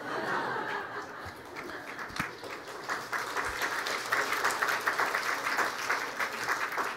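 A church congregation claps steadily through a Sunday morning service, a faint, even patter of many hands with a few soft chuckles early on.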